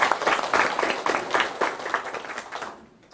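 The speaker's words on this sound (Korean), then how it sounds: "우리 하나님께 영광의 박수 한번 올려드릴까요?" A church congregation claps together after a call to give glory to God, a dense steady round of applause that fills the room for about three seconds and then thins out and stops.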